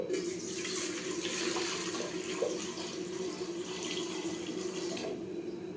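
Water pours in a steady, continuous stream close by from a cup into a cooking pot, splashing evenly for several seconds without a break.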